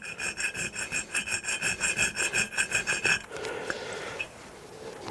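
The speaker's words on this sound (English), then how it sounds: "you've got a modelling file. And you can see there's a bit of a burr on the back" A small modelling file rasps a burr off a motorcycle valve from a classic Triumph Trident T160 in rapid, even back-and-forth strokes, close and crisp, before the stroking stops and a quieter scraping handling noise follows.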